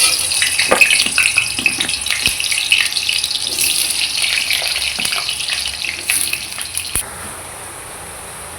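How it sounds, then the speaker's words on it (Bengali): Potatoes frying in hot oil in a wok give a steady, close crackling sizzle with scattered sharp pops, running throughout with no voices. "তারপর তেল আমার গরম হয়ে গেছে, এবার আমি আলুটা দিয়ে দেবো।"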